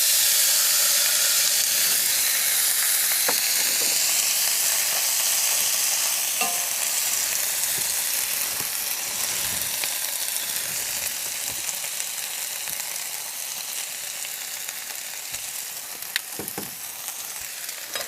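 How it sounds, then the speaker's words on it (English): Vegetables sizzling in a flea-market frying pan over a campfire, a loud steady hiss and crackle close up that slowly eases, with occasional stirring clicks. "Warm enough to get these vegetables cooking."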